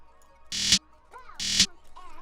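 Snare in an FL Studio trap beat, two bright noisy snare bursts hit about a second apart, each swelling briefly in a short roll, with faint tonal sounds trailing between them.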